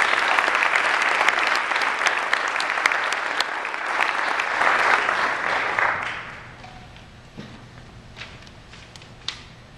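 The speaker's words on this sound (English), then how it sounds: "they deserve a great round of applause" Audience applause at a school's state-of-the-school address, a dense wash of clapping that rings out loudly for several seconds, then tapers off to a few scattered claps.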